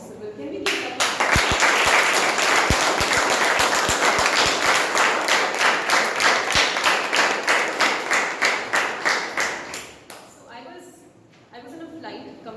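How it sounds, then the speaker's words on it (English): Loud crowd applause and cheering for the ISRO scientists behind Chandrayaan 3, a dense sustained wave of clapping lasting about nine seconds before fading into scattered claps and murmuring. "can we give like the loudest cheer to all our scientists of ISRO who have really made Chandrayaan 3 possible?"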